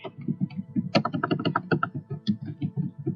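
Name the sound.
typing a document name on a computer keyboard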